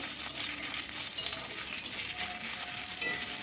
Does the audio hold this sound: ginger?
yes